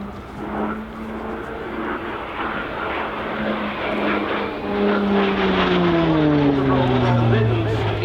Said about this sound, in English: Watch now as the PC-9M regains the display line along the main runway.